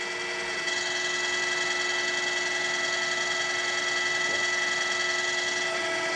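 An OOYA RE2-1300A radial arm drill press running at 472 RPM makes a steady, even machine hum and whine with faint tonal drones, moderately quiet and continuous throughout, with no voices.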